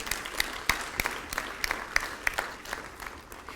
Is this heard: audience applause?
yes